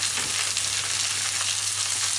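Lamb chops with garlic, onions and fresh thyme sizzle steadily in a hot pan, a dense, even frying hiss close by with no pauses.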